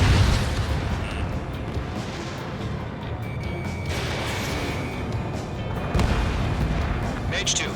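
Missile strike explosions in the Ace Combat 7 jet combat video game, a continuous dense roar of blasts and rumble with sharper bursts near the start and end, loud and close.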